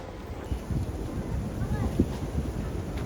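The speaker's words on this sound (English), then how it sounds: "the heavy wind is kicking up this spectacular, dry, kind of icy snow" Strong wind carrying dry, icy snow buffets the microphone in loud, rumbling gusts, a constant low roar with no pause, in a park.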